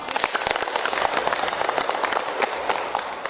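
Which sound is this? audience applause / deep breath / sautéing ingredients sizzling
audience applause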